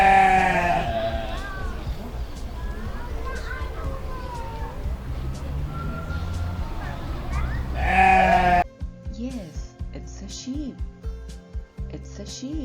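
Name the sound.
sheep bleating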